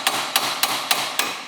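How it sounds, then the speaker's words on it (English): Five sharp metallic hammer strikes ring out on a suspension part of a twin-turbo Nissan 370Z, evenly spaced and close, with no talking. "And you go ahead and give her a few whacks."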